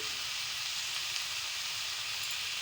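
Pumpkin and Malabar spinach sauté in a hot pan, making a steady, even sizzle and hiss that fills the whole stretch with no pauses or voices.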